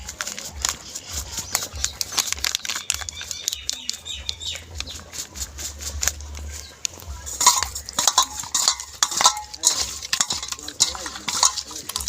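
Raw fish being mixed by hand with salt, turmeric, mustard paste and chilli, giving a close, wet, rhythmic squelching with light clinks against a bowl, while a rooster and other birds call in the background.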